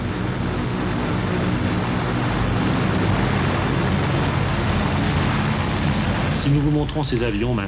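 A loud, steady roar of the engines of an Antonov An-22 Antei, a 230-tonne transport aircraft, with a droning hum, continuous throughout; a voice briefly cuts in near the end.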